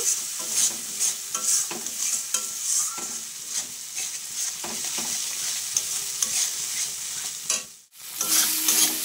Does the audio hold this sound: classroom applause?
no